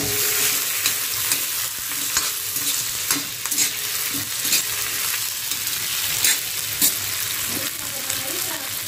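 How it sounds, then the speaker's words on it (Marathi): Green chillies and seven or eight garlic cloves fry in a hot pan, a steady close sizzle with scraping stir strokes and occasional sharper clicks of the spatula, no voices. "त्यानंतर यामध्ये घातल्या 2 मिरच्या, थोडंसं असं लसूण घेतलेलं आहे 7-8 पाकळ्या, आणि याला चांगलं आपण आता फ्राय करून घेऊया"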